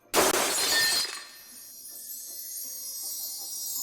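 Glass cracks and shatters in one loud, bright burst lasting about a second. A faint ringing tail follows as the shards settle, with no voices.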